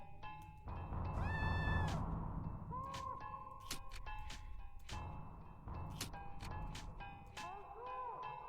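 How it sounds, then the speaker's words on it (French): Video game cat meowing several times: drawn-out rising and falling meows, fairly close, over a steady game background with scattered clicks and thumps. "On a entendu un chat, on est d'accord?"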